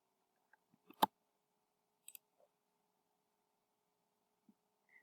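A computer mouse clicks a handful of times in a quiet room while working in a website builder, sharp isolated taps with one louder click and long silent gaps between.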